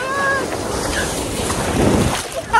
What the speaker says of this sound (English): I love when the waves come.